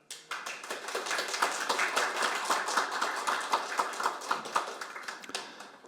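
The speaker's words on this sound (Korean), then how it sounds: "모두 큰 박수로 환영해 주시기 바랍니다" Audience applause at a seminar on delayed post-war PTSD and veterans' policy, welcoming invited guests: a steady patter of many hands clapping, moderately loud and dense, with no talk over it, lasting throughout.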